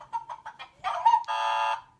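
A chicken in a lively challenge setting gives a run of short, close clucks, then a longer, louder, harsh squawk at the end, with no talking.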